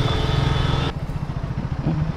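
A new Triumph Speed 400 motorcycle engine idling and held on the throttle while misfiring, a close, loud uneven thrum with a rough pulsing beat and a sudden drop in tone partway through.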